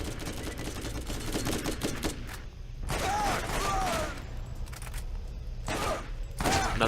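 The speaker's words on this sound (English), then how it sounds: "Okay, so another burst fire." Burst-fire gun shooting in the video game Borderlands, rapid clustered bursts of loud gunfire with some mechanical clatter, fairly close and repeated over several seconds.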